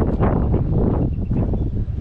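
Steady, loud wind buffeting the microphone on an anchored fishing boat, a low rumbling roar with gusty surges throughout and no voices.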